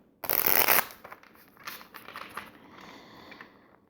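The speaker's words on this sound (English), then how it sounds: "I'm going to pull cards for each section. And as you can see, I'm putting them face down." Tarot cards are pulled from a deck and laid face down: a loud, close riffle of shuffling cards first, then softer slides and light taps as the cards settle onto a surface.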